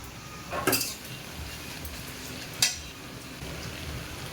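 Onions fry in a pan as grated garlic goes in, a steady low sizzle running throughout with two sharp metallic clatters of a utensil against the pan, no voices.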